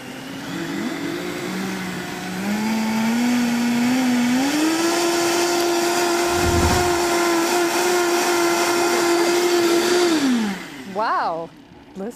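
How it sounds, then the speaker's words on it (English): A high-speed blender runs on broccoli and bone broth soup with spices, a steady loud motor whine that climbs in pitch after a couple of seconds and holds, then winds down near the end, followed by brief faint sounds. "Let's just blend it for 30 seconds on the high-speed blender."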